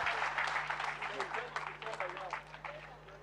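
A church congregation applauds for Jesus Christ during a worship service. The clapping is a steady, moderate patter beneath someone talking, then fades slightly toward the end.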